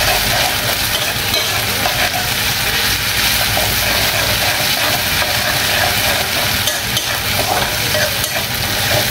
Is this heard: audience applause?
no